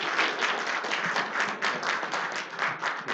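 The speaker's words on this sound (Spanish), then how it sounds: "Pues vemos un aplauso al doctor Rafael Valdés Ortiz" An audience at a medical lecture applauds a doctor: a full, lively burst of many hands clapping with a loose, irregular rhythm, close and steady from start to finish.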